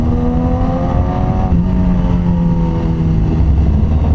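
The inline-four engine of a BMW HP4 motorcycle revs hard and loud, climbing in pitch and then dropping sharply at about a second and a half on a clutchless quick shift before climbing again.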